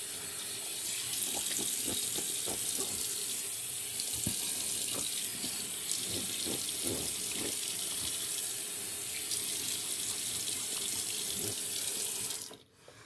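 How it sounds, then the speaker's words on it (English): Bathroom faucet running steadily into a sink while a freshly shaved face is rinsed, water splashing unevenly for about twelve seconds before the tap shuts off. "So I'm going to rinse the face off, dry it off"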